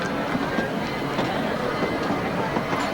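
Steady rumbling train noise with rolling wheels and broadband rattle, continuous and fairly close, no talking.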